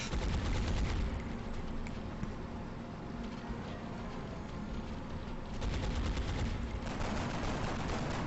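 Gunfire in the turn-based strategy game Long War, a dense rapid burst of shots that continues steadily, fairly loud, with a fresh volley near the end.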